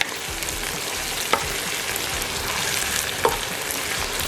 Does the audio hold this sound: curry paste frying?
yes